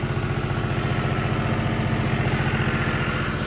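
A John Deere 5210 Gear Pro tractor working a Jagatjit super seeder drones with a steady, loud, throbbing engine note that runs unbroken throughout.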